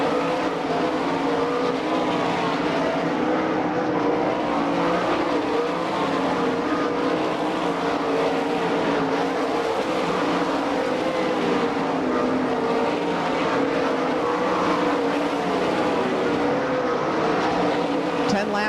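Race cars roaring around a dirt track at an All Star Circuit of Champions event in Franklin, PA, a continuous loud engine drone from several cars, with an announcer talking over it.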